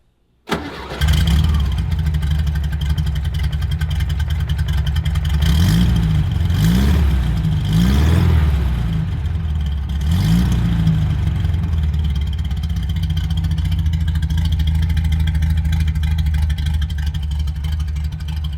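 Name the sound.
tuned Volkswagen Beetle engine starting and revving, Herbie-like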